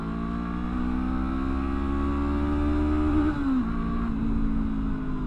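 A Honda NX500 adventure motorcycle accelerates hard, its engine note climbing steadily and loudly to the 9,000 RPM rev cutoff, then dips briefly before pulling again.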